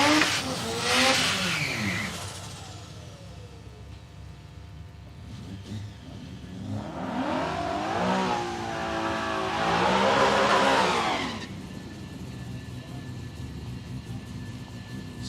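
Drag racing cars at Palmyra Raceway, a supercharged Mustang and a turbocharged Corolla, revving engines rising and falling in pitch with long accelerating runs, loud and fairly close, fading to a distant drone.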